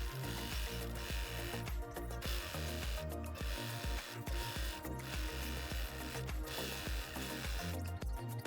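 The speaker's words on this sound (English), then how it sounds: "sew the side seams and drawstring channel on your sewing machine" A sewing machine stitches the seams of a cotton produce bag made from an old bedsheet, a rapid steady mechanical whir and chatter with brief pauses, close and alone.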